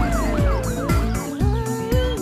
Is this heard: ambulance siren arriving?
yes